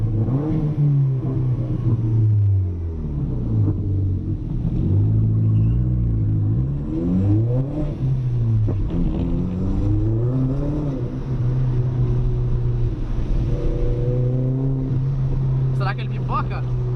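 A trackday car engine revs and accelerates in the rain, a loud steady drone whose pitch swings up and down repeatedly, with people talking over it close to the microphone.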